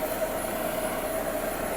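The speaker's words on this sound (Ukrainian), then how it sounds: "сівалочка свистить, турбінка дує, масей газує" A Massey Ferguson 5711 tractor drives an Atria 8 seed drill during soybean sowing, its turbine fan whistling steadily over a constant engine drone. The noise is loud and unbroken, with no one speaking.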